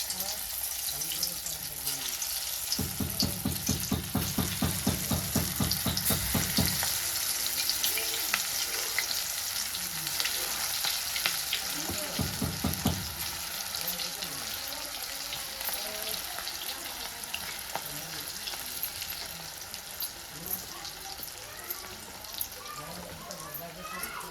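Tur dal bhaji fritters fry in hot oil with a continuous crackling sizzle, while a person talks over it and louder bursts of bubbling rise now and then.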